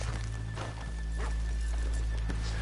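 Horses in the video game Red Dead Redemption 2 plod along a town street in the rain, with soft, irregular hoof clops under a steady hiss of rainfall and low rumble.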